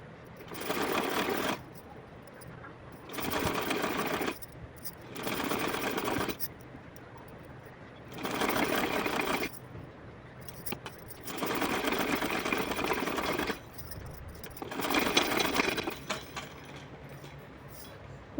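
Sewing machine stitches a fabric strip for a Laddu Gopal deity outfit in about six separate runs of steady whirring, each a second or two long, with quiet pauses between them, close up and alone.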